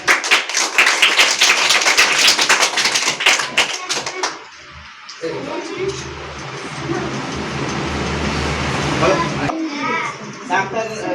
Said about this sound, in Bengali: সবার জন্য একটা হাততালি দেওয়া